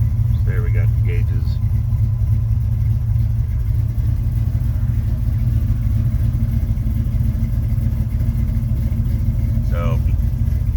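A 1968 Chevrolet Camaro engine runs at a steady idle, a loud continuous low rumble heard from inside the car, with faint voices occasionally over it.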